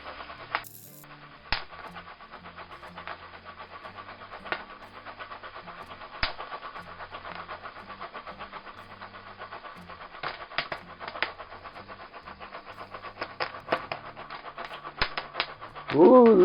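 Popcorn kernels popping inside a foil pan over a campfire, scattered sharp pops and crackles starting sparse and growing denser and louder toward the end, with no talking.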